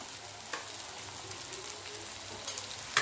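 Red chili powder frying in oil for a kartoli vegetable dish, a steady close sizzle with light stirring and a couple of sharp clicks toward the end.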